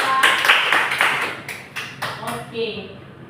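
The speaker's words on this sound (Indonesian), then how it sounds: "beri tepuk tangan pada Salsa" A physics class claps for a student in a short burst of classroom applause. A run of distinct claps thins out and fades, and a voice is heard near the end.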